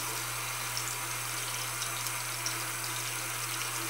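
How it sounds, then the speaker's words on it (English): Water runs from a tap at a sink during a skincare routine, giving a faint, steady hiss-like rush with no breaks or voices. "I just turn on the water, get it really nice and wet"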